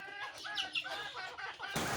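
Chickens and roosters on a small home farm cluck and call in short, close, overlapping bursts, with a rustling noise at the end.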